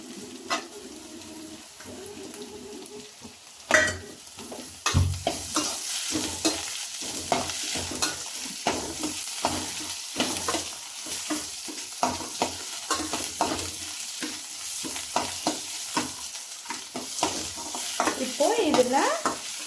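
Mashed potato masala with green chillies, turmeric and chilli powder sautéing in a pan for paniyaram: soft sizzling under frequent scraping, clattering stirs of a spoon, close and busy with no voices.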